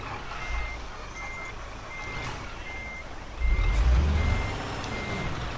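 Evenly spaced electronic reversing beeps from a truck parking in Euro Truck Simulator 2, over a low engine rumble that swells briefly partway through.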